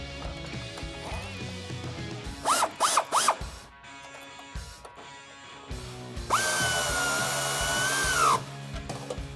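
Bolts on a Jeep Wrangler JL's pinch weld are tightened with a 10mm socket and wrench while side step bars are fitted, giving bursts of quick ratcheting clicks, then a longer whirring power-tool run with clanks between.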